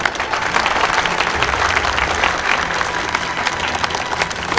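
Applause from an audience gathered for a storytelling session welcoming a returning woman soldier, a dense, steady clapping that fills the room throughout without pause.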